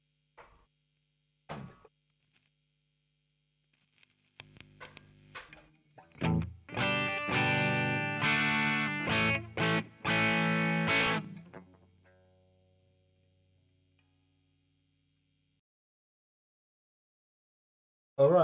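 Electric guitar played through a DIY Bluesbreaker overdrive pedal, a few sparse picked notes and then a loud run of driven, saturated chords that rings out and decays into near silence.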